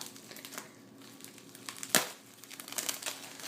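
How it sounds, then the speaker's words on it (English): Blue bubble wrap crinkles and rustles up close as an egg is wrapped, quiet irregular crackling with one sharper crunch partway through, and no talking. "we're gonna wrap it in bubble wrap too"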